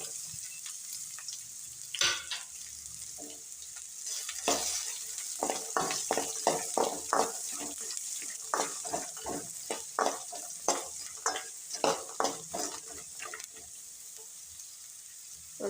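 Chopped onion fries in oil with curry leaves for masala upittu, a soft sizzle running beneath repeated scraping stirs of a spatula in the pan, the strokes coming in irregular bursts.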